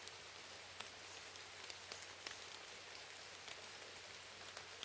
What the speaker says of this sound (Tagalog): Sabi ngayon ulan na.